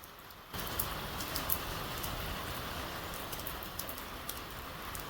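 Heavy rain pouring down in a dense, steady patter that starts abruptly and holds at full strength, with occasional louder drops standing out near the microphone.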